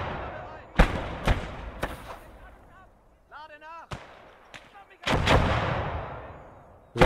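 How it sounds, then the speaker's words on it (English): Mortar and artillery explosions in the WWII strategy game Gates of Hell: Ostfront, set during the invasion of Poland: a string of loud, sharp booming blasts at irregular intervals, with a brief voice in a quiet gap between them. "God, we're losing men to those goddamn mortars."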